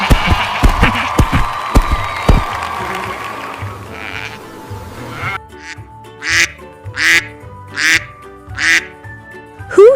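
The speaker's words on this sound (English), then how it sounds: "Yes, it's a duck!" A duck quacks in a series of loud, nasal calls spaced about a second apart, heard alone after a noisy stretch of sheep-like bleating and crowd sound.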